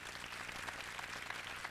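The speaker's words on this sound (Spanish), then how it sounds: "Para Él, este fuerte aplauso." Audience applause at an intimate concert, a faint, steady wash of many hands clapping heard from a distance, with no talk.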